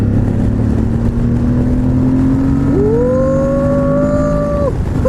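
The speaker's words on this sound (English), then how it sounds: "a really nice engine" Aprilia Tuareg 660 motorcycle engine on an off-road ride, a steady hum that rises sharply into a sustained rev, holding a high pitch for a couple of seconds before dropping, close and loud.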